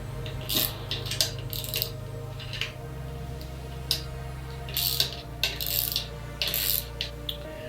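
Wrench ratcheting off a 10mm nut on the centre stand of a Honda CB450 motorcycle, with irregular bursts of quick metallic clicks and small clinks, close up, under a low steady hum, no talking.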